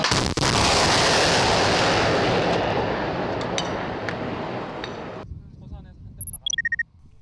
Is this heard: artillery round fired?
yes